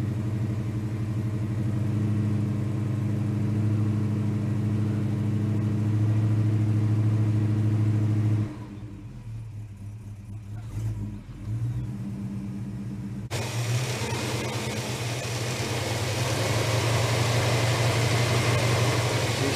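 A Holden HK car engine running roughly with a stuck exhaust valve on the left bank's number two cylinder, a loud uneven rumbling idle with a lumpy beat, dipping briefly in the middle before returning harsher.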